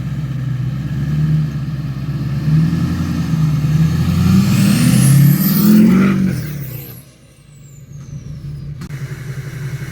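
A loud truck engine runs close by, rumbling and building to a roar, then the sound sweeps past and drops away, leaving a lower steady hum.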